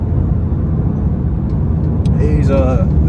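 A Mini Cooper S R53 engine hums steadily and close while pulling away in fourth gear from about 30 mph, a low even drone with speech cutting in near the end.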